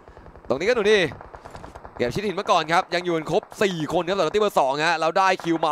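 Rapid gunfire from the mobile battle-royale game PUBG Mobile in a squad match crackles in quick bursts beneath a man's continuous, excited commentary.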